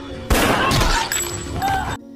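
A gunshot in a gangster film scene set in a café, a loud sharp blast followed by a dense, ringing burst of impact and debris lasting under two seconds, with a voice briefly mixed in.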